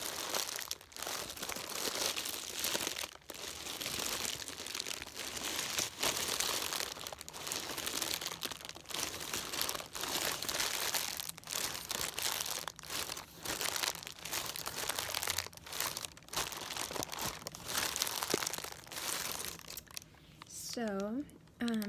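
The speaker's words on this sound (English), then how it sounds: "I just rewrapped everything in the nice crinkly paper." Crinkly wrapping paper around Disney merchandise being handled and unwrapped up close, with steady rustling and crackling that runs throughout, broken by sharper crunches and a few louder tearing bursts near the end.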